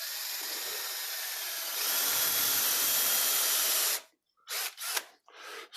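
Wood being bored with an 8mm drill bit on a lathe for a candlestick, a steady high whirring grind that rises in pitch midway, then stops and gives way to a few short bursts.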